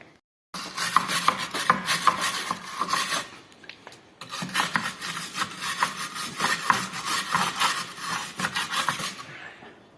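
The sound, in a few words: wire brush cleaning bolt threads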